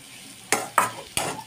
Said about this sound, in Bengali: তাই এটা সবজি দিয়ে বানিয়ে দিচ্ছি।